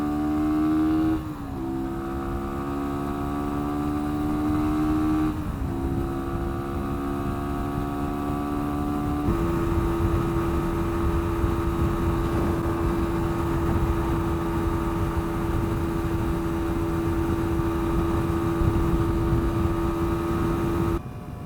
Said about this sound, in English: Engine braking's not bad either, I will say.